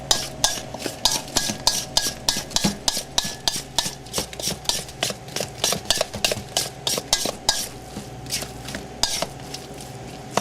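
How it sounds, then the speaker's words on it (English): Salmon patty ingredients mixed together in a bowl, a rhythmic run of quick scraping, tapping strokes of a utensil against the dish, close and steady with no talking. "Mix it all in together."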